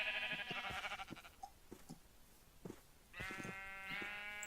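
Minecraft sheep bleat in short nasal cries, several overlapping and repeating in bursts, with a louder drawn-out bleat near the end over faint game sounds.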